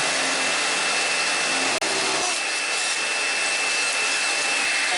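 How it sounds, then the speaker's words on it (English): A Makita LXT drill bores into a wall while a Hoover vacuum runs alongside, a loud continuous broadband whine and roar holding steady throughout, with a brief click partway through. "Take your drill, turn the Hoover on and start drilling."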